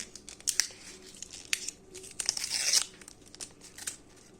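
A foil pack of football player trading cards is torn open close up, a few sharp rips and crinkly crumpling bursts in quick succession, the longest tear near the middle, with quiet gaps between.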